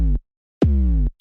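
Super Mario 808 bass sample pitched down with an envelope, sounding as two deep booming bass notes: a short hit, a brief silence, then a longer sustained tone with a downward pitch bend, close and loud without voices.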